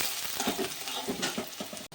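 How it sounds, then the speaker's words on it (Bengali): Chopped onion and garlic browning in hot mustard oil, a dense, steady sizzle and crackle with faint stirring, close and continuous throughout. "তো পেঁয়াজ রসুনটা আমি একটু লাল লাল করে ভেজে নিয়েছি"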